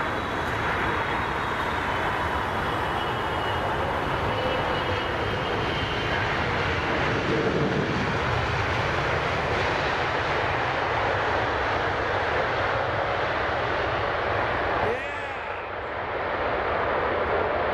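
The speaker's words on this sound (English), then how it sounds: "he's got three ways of braking that aircraft" At London Heathrow, an aircraft lands on runway 27R and brakes, producing a loud, continuous jet roar that persists for the whole stretch and eases briefly near the end.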